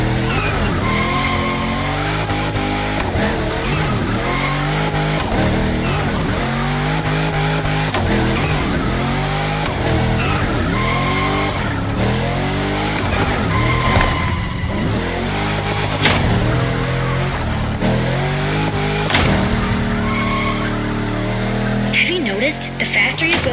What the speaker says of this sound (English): That's a proper drift.